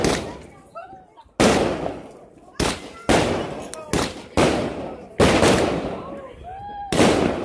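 New Year fireworks going off in a rapid series, about eight sharp loud bangs at uneven intervals, each followed by crackling decay, with voices and whistling in between.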